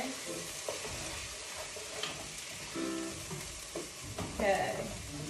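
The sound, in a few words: onions being stirred in a pan for pomodoro sauce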